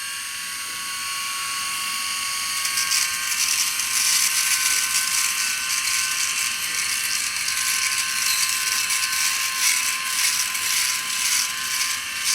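A SEJOY BlackStone 3 rotary electric shaver wet-shaves a beard, a steady high-pitched buzzing whine close to the ear that grows louder and rasps as the heads move across stubble, with no talking.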